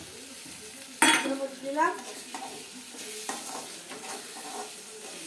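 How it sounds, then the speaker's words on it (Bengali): Green chillies hit hot oil in a pan and start frying: a sudden loud sizzle with stirring clatter that fades to a steady crackle, with a short spoken word over it. "কাঁচা লঙ্কা দিয়ে দেবো"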